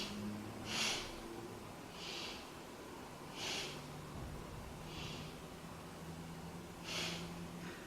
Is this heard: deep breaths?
yes